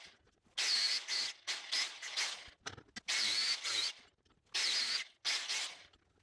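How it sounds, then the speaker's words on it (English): Abrasive silicon carbide cutoff wheel, made for aluminum, grinding through copper windings. Repeated loud harsh bursts of cutting, each lasting about a second, separated by short pauses. "the next one is also an abrasive cutoff wheel specifically for aluminum, but this one is a silicon carbide grit"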